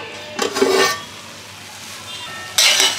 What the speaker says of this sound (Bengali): এবারে চলো ঢাকনাটা তুলে দেখি কি অবস্থা রয়েছে।